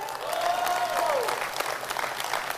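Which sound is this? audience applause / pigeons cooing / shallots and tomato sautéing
audience applause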